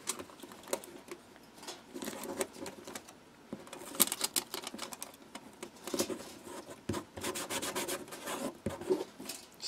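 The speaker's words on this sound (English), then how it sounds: "And just tape that on there. And tape the other side." Tape is pulled, stuck and rubbed onto a homemade camera obscura, giving soft scratchy rustles and brief crackling rips in quick irregular bursts, close and fairly quiet, with no talk.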